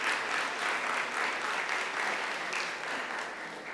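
A crowd claps steadily and loudly, a dense, even wash of applause lasting a few seconds without pause.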